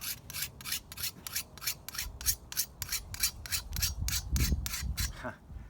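A machete blade being hand-sharpened with a file, matching a belt-ground bevel: a steady series of rhythmic rasping strokes, about three per second, close and distinct, with faint handling noise between strokes.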